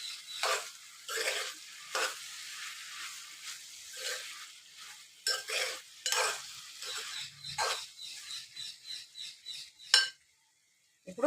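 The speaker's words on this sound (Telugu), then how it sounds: "నేను 2 చిన్న సైజు టమాటాలు, కలమ, కొత్తిమీర ఇప్పుడే యాడ్ చేస్తున్నా. ఎందుకంటే కొంచెం ఉడకాలి కదా టమాటో," A spoon stirs cabbage curry in a pan after two small tomatoes, curry leaves and coriander are added. It comes as a series of soft, scraping strokes with light sizzling, fairly quiet and close, with no voice over it.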